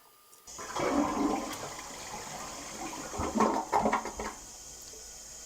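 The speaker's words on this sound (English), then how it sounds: "We'll let this thing fill up one more time and give it a flush on its own" A toilet flushes on its own after being cleared with a beehive-style plunger, a sudden loud rush of water swirling down and then settling into a steady refill hiss, with no voices.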